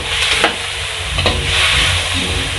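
Sotanghon glass noodles stirred and tossed in a hot frying pan, a constant loud sizzle and hiss broken by soft scraping strokes of the spatula.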